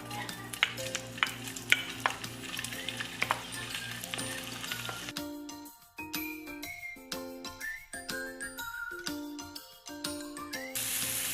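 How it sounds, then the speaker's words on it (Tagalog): Shrimp frying in olive oil in a pan, with steady sizzling, stirring and light metallic clinks of a utensil against the pan, close and moderately loud, with no talking. "maglagay tayo ng olive oil. And then, ang una nating ilalagay itong shrimp."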